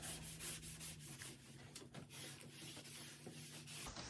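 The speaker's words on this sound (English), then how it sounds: "here I am sanding down between coats of stain to get the finish to be smooth" Hand sanding of stained wood bedroom furniture between coats of stain, heard as a soft, continuous rubbing scrape with faint strokes, fairly quiet and close, with a low steady hum beneath.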